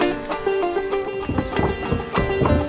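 Horses and mules on a backcountry horseback ride in the Peruvian Andes, with hooves clip-clopping in an uneven walking rhythm close by, a horse whinnying, and music playing underneath.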